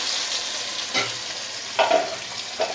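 Katla fish head sizzling and crackling in hot oil in a pan, a low steady fry with a few brief louder spatters and stirring bursts, close and fairly quiet, no voices.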